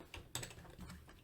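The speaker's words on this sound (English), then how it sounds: "go back and type that in" A computer keyboard is typed on in a short burst of quick, soft keystrokes with a slightly louder cluster partway through. No one speaks.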